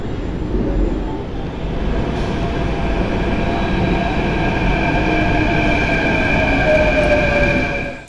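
A Mumbai local train runs at a station, a loud, continuous rumble of wheels on rails with high metallic squeals drawn out over it, fading slightly at the very end.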